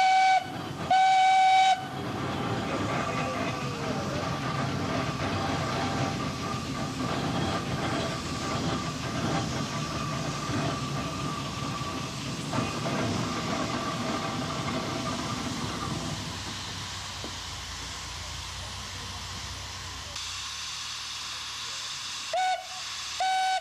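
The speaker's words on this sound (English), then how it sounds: "just after 1 o'clock, the road train arrives from Pimper." A former Norman E. Box Fowler steam road locomotive hauls a road train at a steam fair, a steady chugging rumble rolling past for most of the stretch before easing and fading, with brief sharper bursts near the start.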